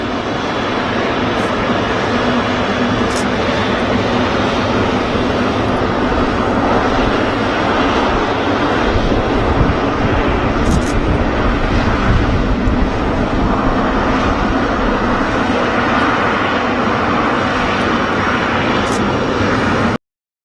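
An airliner in FIFA World Cup livery at Manchester Airport roars steadily and loudly with broadband jet engine noise that holds throughout, with no talk over it.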